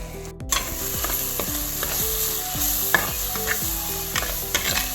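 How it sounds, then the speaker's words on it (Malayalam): A ground tomato, dried chili, coriander and turmeric masala is sautéed with onions in a pan over a low flame for crab ghee roast. A loud, steady sizzle runs under rhythmic, repeated spatula scraping strokes, with no voices. "ഇതിലേക്ക് ചേർത്ത് നന്നായിട്ട് വഴറ്റിയെടുക്കാം"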